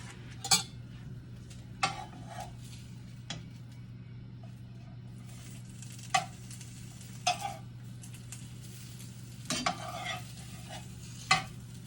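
A breakfast tortilla folded with egg and cheese gets flipped in a pan, marked by sharp spatula clicks and scrapes over a faint sizzle and a steady low hum, no voices.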